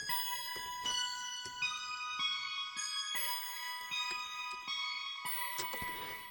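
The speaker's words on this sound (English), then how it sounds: "I added another sound from this bank, and it's called the DX7 Space Keys" A DX7 Space Keys synth preset plays bright, high bell-like tones in a slow sequence of struck notes with long shimmering sustains, clear and alone at moderate volume.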